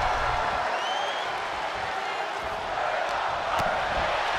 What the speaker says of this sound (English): the crowd is saying they're not worthy